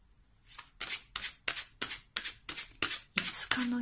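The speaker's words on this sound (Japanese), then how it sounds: "もう1回シャッフルしましょう。" Tarot cards shuffled by hand in a series of about nine crisp, rhythmic riffles, each a short papery burst, close and clear with no talking.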